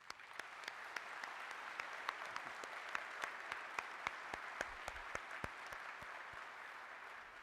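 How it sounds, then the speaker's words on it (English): Faint, distant applause from an audience at a school of pharmacy gathering, a steady wash of clapping with occasional sharper nearby claps, continuing evenly for over seven seconds. "I would ask all of you to join me in a round of applause for these"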